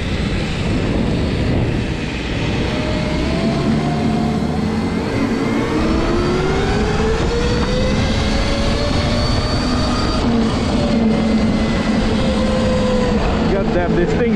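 A SurRon electric dirt bike fitted with a snow kit rides through snow. Its motor whine rises and falls with the throttle over constant loud rushing noise.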